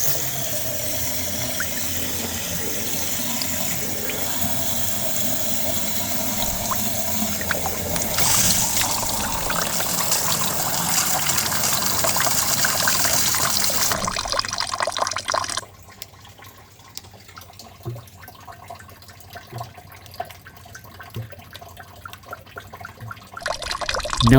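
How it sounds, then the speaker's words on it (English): Water is poured into a 2010 Mazda 3's coolant expansion tank during a flush, a steady rushing, splashing stream that runs for about fifteen seconds, then drops to a quieter trickle and dripping. "doing a flush by adding water to the expansion tank until I see no more coolant draining."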